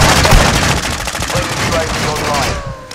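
Call of Duty: Modern Warfare II combat sounds with rapid automatic gunfire, loud and close, rattling continuously as a dense stream of shots before easing off at the end.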